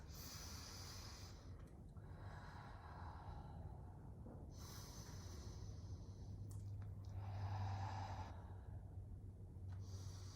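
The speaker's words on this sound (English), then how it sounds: "I'm gonna do 4 deep breaths in my high plank" Slow, deep breaths are drawn in and pushed out while someone holds a high plank, about four close, quiet breath cycles with audible inhales and sighing exhales.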